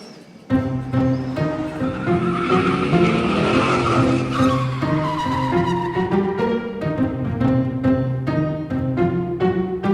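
A car driven by an unlicensed youth skids with loud, close tire squeals, sliding tonal screeches sweeping over the engine's roar for most of the stretch after a brief quiet start.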